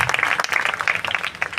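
An audience at a Christian festival claps and applauds, a dense burst of hand claps at close range that fades slightly toward the end.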